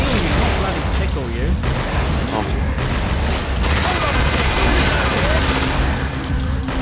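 Heavy, continuous gunfire from a weapon in a video game, loud rapid shots with booming impacts under overlapping voices throughout.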